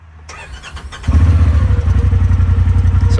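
A Polaris RZR Turbo R side-by-side cranks over and catches, then settles into a loud, close, steady throbbing idle with no one talking.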